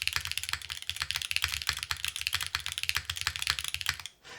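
Rapid typing on a Qi65 keyboard fitted with WINGTREE switches on an aluminum plate, a dense run of sharp, clacky keystrokes close to the mic that stops just before the end.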